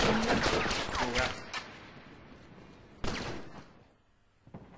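Sharp gunshots and short bursts of gunfire from The Last of Us multiplayer video game ring out near the start and again midway, with rumbling echoes fading between shots and 9mm weapons in use.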